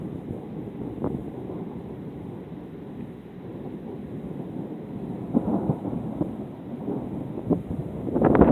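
Continuous rolling thunder rumbles steadily from a storm cloud, a low dense roar with wind buffeting the microphone and a louder crackling swell near the end.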